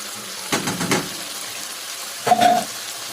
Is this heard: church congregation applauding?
no